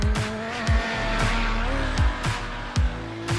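Race car lapping a track in a sim racing game, with engine tone rising and falling through repeated gear changes and sharp tire squeals, heard alone and up close.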